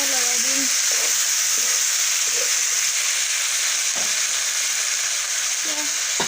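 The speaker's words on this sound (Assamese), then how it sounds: "দিছোঁ আদা নহৰু আৰু পিচি লৈ গোটা মছলাখিনি" Ginger-garlic paste and whole spices sizzle steadily in a pan for a meat dish, with a constant loud frying hiss and a few soft stirring scrapes, no voices.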